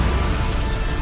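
A Bombarda explosion spell cast in the game Hogwarts Legacy, a short, dense blast of crashing noise that stays loud and full for about a second.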